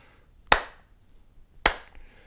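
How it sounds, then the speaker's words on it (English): Two sharp, close hand claps, about a second apart, crack loudly against near silence and each decays quickly, used as a cut between scenes. "let's hope that clap transition worked"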